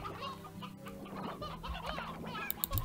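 Chickens cluck in the Slime Rancher video game, a busy layered farm-game soundscape with a rooster among the flock, clucking and squawking throughout and a few louder calls near the end.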